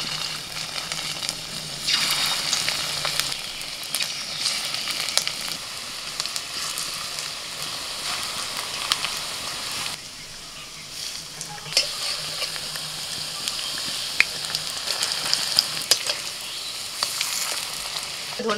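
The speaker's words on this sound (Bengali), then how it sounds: "বড়া ছেড়ে দিচ্ছি তেলের মধ্যে।" Small fish roe fritters dropped into hot oil fry with a steady, close, loud sizzle and bubbling that continues throughout without any talking.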